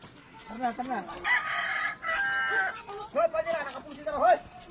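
A rooster crows loudly and at length in the middle, with hens clucking nearby and a person calling out over them.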